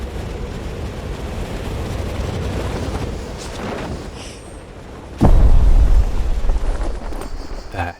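A sudden loud explosion erupts partway through in the video game Just Cause 2, bursting over a steady rumbling background of game noise and then slowly tailing off.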